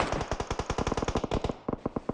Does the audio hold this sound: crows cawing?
no